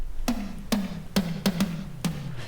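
A punchy drum sample hits five times in an uneven pattern, each thump trailing into a short, slightly grainy 80s-style vintage non-linear reverb tail that cuts off abruptly.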